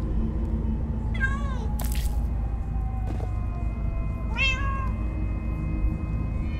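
Cats meowing in the Minecraft: Story Mode video game: two distinct, clear meows a few seconds apart over a steady background of game ambience.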